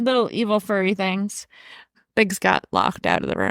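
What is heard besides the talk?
No everyday noises stand out.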